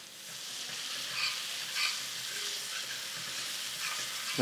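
Garlic paste, ginger paste and kasuri methi are sautéed in a pan for pav bhaji, giving a steady, moderate sizzle with gentle stirring and a sharp clink at the end.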